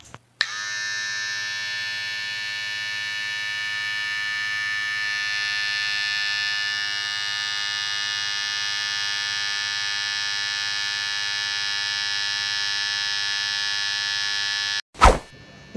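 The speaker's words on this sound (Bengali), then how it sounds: "সাইডের নিচের চুলগুলোকে টিমের মেশিন দিয়ে একেবারে জিরো সাইজ করে দেবো" An electric hair trimmer cutting a high fade drones with a steady, close mechanical buzz for about fifteen seconds, with a sharp click as it switches on and another as it stops.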